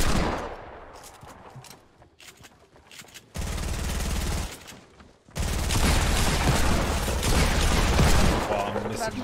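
Sustained automatic gunfire in a shooter video game, a long loud continuous burst after earlier scattered shots, close and dense, with some speech nearby.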